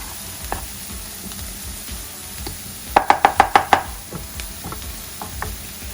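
Potatoes and onions sizzle in a frying pan under a low, steady crackle, then a quick run of six sharp metallic knocks as a utensil stirs and scrapes the pan.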